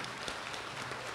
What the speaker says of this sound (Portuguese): Vamos então aplaudir os times finalistas